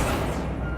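An Accio spell cast in the video game Hogwarts Legacy: a brief, fairly quiet whooshing magical burst with a low rumble that fades in its upper hiss toward the end, with no voices.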